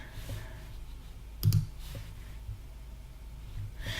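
A single sharp mouse click stands out at about a second and a half over a quiet hum of room noise, with a few fainter clicks later.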